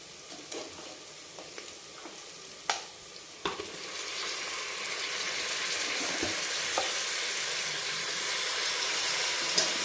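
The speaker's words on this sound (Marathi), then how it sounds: "हळद पण परतून घ्यायची आणि हळद परतून झाली की आपल्याला लगेच मटण टाकायचं याच्यात" Turmeric fries in a pan, then pieces of goat thigh meat go in for a village-style mutton curry. Scattered clicks and scrapes of stirring lead into a loud, steady sizzle that builds and holds to the end.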